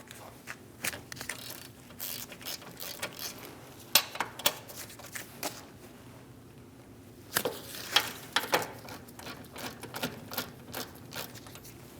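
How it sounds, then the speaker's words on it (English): A 21mm socket ratchet loosens the caliper bracket bolts on a 2016-2025 Chevrolet Malibu front brake, producing close bursts of rapid clicking with knocks of metal on metal, pausing midway before a second burst, with no talking. "Using a 21mm socket, we're going to remove the 2 caliper bracket bolts."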